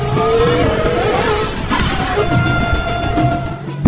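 A car racing through a film chase scene, its loud engine revving and roaring up close, shifting pitch as it accelerates, with a short tire squeal toward the end and no talking.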